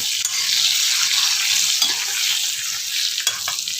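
Bell pepper (capsicum) roasting in a pan, a steady close sizzle and crackle running throughout with a few faint clicks, no voices.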